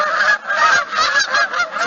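A large flock of geese honking together in a continuous overlapping chorus, loud and close, with no talking.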